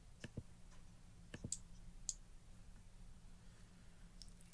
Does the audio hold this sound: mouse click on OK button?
yes